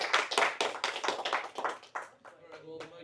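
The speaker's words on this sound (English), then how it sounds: "give a big round of applause." A small audience gives a brief round of clapping, distinct close hand claps that quickly dwindle to a few scattered ones after a couple of seconds.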